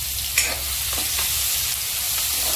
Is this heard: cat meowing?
no